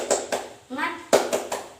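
A school class claps along to the 'tepuk semangat' chant, several sharp group claps in rhythm, with a short bit of children's voices between them in a classroom.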